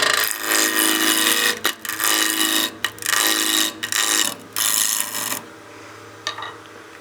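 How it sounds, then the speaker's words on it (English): Wood lathe peel cuts knock the corners off a square blank while turning a snowman oil candle, a loud, rough rasping scrape broken by brief gaps as the tool repeatedly engages and lifts away. "we'll just do some peel cuts to get rid of these corners"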